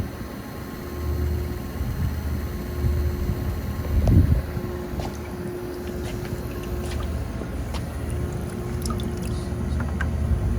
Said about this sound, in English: The motor is on.